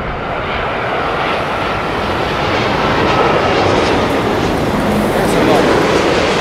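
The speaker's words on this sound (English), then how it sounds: "That, my friends, is a Dreamliner from Delhi. It's Air India's 787-8." An Air India Boeing 787-8 Dreamliner airliner roars past at Heathrow with loud, continuous jet-engine noise that swells slightly as it goes on. A voice talks over it.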